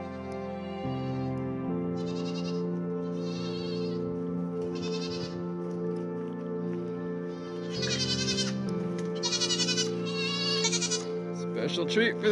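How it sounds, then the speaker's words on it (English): Goats bleat in bursts over a steady low hum, the calls growing louder and more frequent toward the end, as bucks are offered a special treat. "Special treat for the goats."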